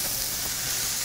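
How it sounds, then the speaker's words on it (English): Dense, bright sizzling hiss of calamari frying in a hot pan, steady and close for a brief moment. "If you get anything in your pan and it doesn't sizzle like that, it is not hot enough."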